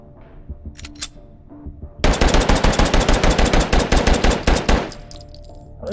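A video game weapon fires tracer rounds in a fast automatic burst of about two and a half seconds. The shots are loud and close, with a few quieter handling clicks before the burst.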